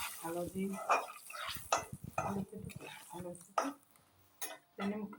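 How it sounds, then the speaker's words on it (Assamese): Olives sizzle lightly in a pan as they are stirred, with intermittent scraping, while a person speaks over it. "এতিয়া জলফাইখিনি ভাজি ল'ম।"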